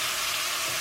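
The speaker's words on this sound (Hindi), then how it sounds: "लिए अब मैं इसमें टमाटर और हरी मिर्चें डालूंगी।" Tomatoes and green chillies fry with minced keema and garlic paste in a pan, giving a brief, steady, close hiss of sizzling.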